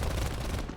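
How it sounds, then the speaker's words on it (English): Rapid aircraft machine gun fire in the War Thunder flight game, a dense rattling burst of shots, fairly quiet and brief, with no talk. "I score a few more MG hits"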